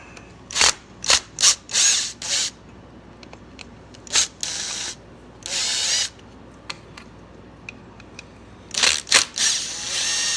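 Screws are backed out of a Suzuki Ozark 250 carburetor, giving repeated short, sharp bursts of tool whirring and clicking, close and loud, separated by brief quiet gaps.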